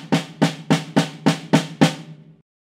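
Seven crisp single drum strokes in an even, alternating right-left pattern from the Stick Control exercise, close and clear, each hit ringing briefly before the next, then silence.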